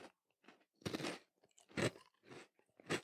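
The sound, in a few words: crunching koala chocolate-filled wafer biscuit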